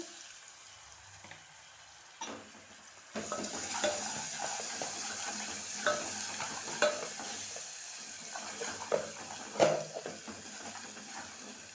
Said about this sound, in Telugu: నేనైతే బుడ్డ కాకరకాయలు నూనెలో వేస్తున్నాను